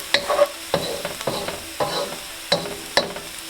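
Garlic frying in a pan for radish cake, stirred with several sharp scraping strokes over a steady close sizzle, no voices.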